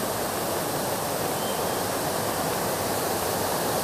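A river in the forested Aceh countryside flows with a steady, dense rushing wash, constant and moderately loud throughout, with no voices.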